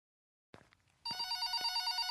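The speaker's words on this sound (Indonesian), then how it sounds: "Tinggal nunggu panggilan telepon." A telephone rings in the horror video game Suster Jaga Malam, set in a haunted hospital, starting after a few soft clicks with a steady, loud electronic bell trill.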